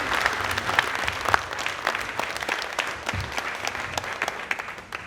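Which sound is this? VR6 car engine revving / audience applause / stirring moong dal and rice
audience applause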